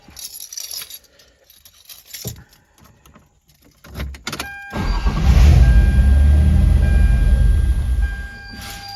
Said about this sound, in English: And I dropped the keys.